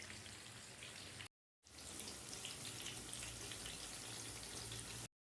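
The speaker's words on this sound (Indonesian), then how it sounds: "sekarang kita goreng lagi sampai satu sisinya kemerah-merahan juga" Bahraini kebabs fry in hot oil in a pan, giving a steady, dense sizzle close by that cuts out briefly and then resumes just as strongly.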